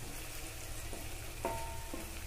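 Chicken skin fries with onions in hot oil in a home kitchen, a quiet steady sizzle with a few soft stirring clinks, no voices.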